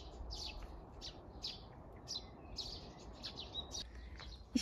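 Small wild birds chirping outdoors among wild plants in May, short high tweets repeating in scattered bursts over a soft, faint background hiss.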